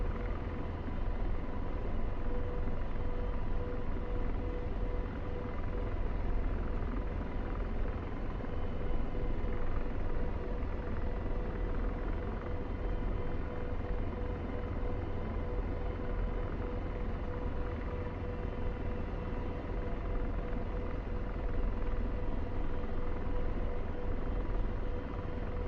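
An AH-64 Apache helicopter in the DCS flight simulator, its rotor and turbine giving a steady, dense, even drone throughout with no speech.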